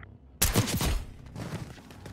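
Gunfire in a Black Ops 6 video game campaign, a sudden loud burst of shots starting sharply and holding for about half a second before decaying into lingering reverberant noise, with no voices.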